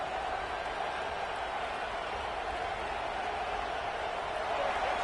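Stadium crowd in College Football 26 during an Alabama Crimson Tide vs Auburn Tigers game, a steady, dense roar of cheering that holds at an even level throughout and swells slightly near the end.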